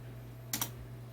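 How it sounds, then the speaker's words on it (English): A few quick keystrokes on a computer keyboard, two soft clicks close together over a faint steady hum. "you're gonna type in"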